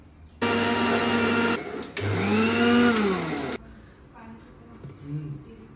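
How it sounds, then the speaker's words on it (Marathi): A kitchen mixer grinder whirs loudly, grinding ginger and garlic into paste, running in two close bursts with a brief stop between, and then people talk quietly afterward. "आता हे मिक्सरला लावूया आपण"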